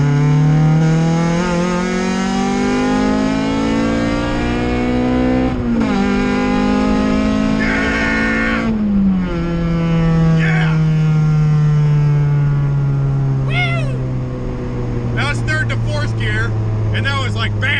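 A Honda with a B20 VTEC engine and a swapped B-series transmission revs hard at wide-open throttle, its loud engine note climbing steadily through each gear with brief dips at the shifts, while someone talks over it.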